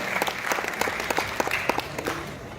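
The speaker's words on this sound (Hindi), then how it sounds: "एक बार जोरदार तालियों से उनका अभिनंदन करें" Theatre audience applauding for an honoured guest at a Hindi stage play event, dense steady clapping throughout, fairly close and loud with a few sharper individual claps standing out.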